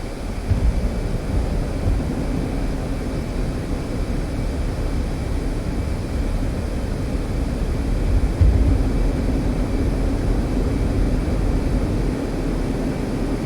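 F-15C jet engines in DCS during a runway takeoff roll, a loud, steady low roar and rumble that holds constant throughout without talk.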